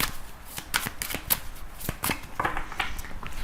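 Tarot cards being shuffled by hand, a rapid series of crisp riffling flicks and soft slaps in an uneven rhythm, close and fairly quiet with no talk.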